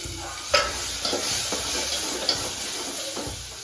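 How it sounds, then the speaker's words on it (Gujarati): Water poured into a pan of frying masala, salt and onions brings a steady sizzle and bubbling, with a few sharp stirring clinks and scrapes. "હવે નાખી દઈશું ગાઈસ પાણી, એટલે થોડી આપણી મસાલો બળે ને પ્યાજ ચડી જાય."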